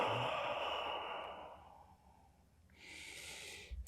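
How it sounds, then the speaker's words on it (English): A deep exhale through the mouth, released as a long, soft, breathy sigh that fades gradually, followed after a pause by a brief sharper breath sound, quiet and close in a calm yoga setting. "just let it go through your mouth, maybe with a sigh"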